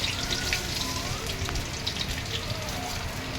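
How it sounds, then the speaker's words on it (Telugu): Tempering spices of cumin, mustard seeds and chana dal with dried red chillies and garlic sizzle steadily in hot oil, a close, continuous crackling fry with faint sputters throughout. "తాలింపు గింజలు, జీలకర్ర, ఆవాలు, పచ్చెనపప్పు అన్నీ కలిపింది వేసేసాను."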